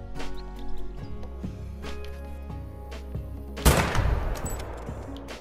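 A single loud 6.5 mm hunting rifle shot in theHunter: Call of the Wild cracks sharply and rolls off into a decaying echo, preceded by quieter ambient clicks and faint sounds.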